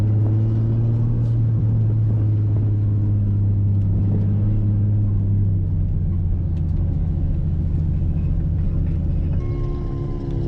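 A car engine rumbles steadily from inside the cabin while driving, a loud low drone that holds even and then shifts pitch slightly near the end, with no talking.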